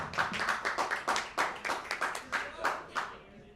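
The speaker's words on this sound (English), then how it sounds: "Another round of applause for Jaylin Eaves." An audience at a dive-bar comedy show claps a fairly loose round of applause, with individual hand claps standing out in an uneven patter that tapers off after a few seconds.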